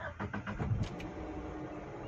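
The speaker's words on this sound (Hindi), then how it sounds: "एक बार गाड़ी को करते हैं स्टार्ट।" An SUV engine cranks with a few quick rhythmic turns and then catches into a steady, low idle, recorded close and fairly quiet.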